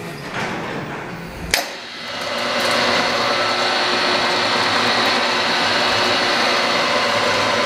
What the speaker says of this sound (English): So what we're gonna show you today is the actual hoist. We're gonna lift up this 800-pound welder.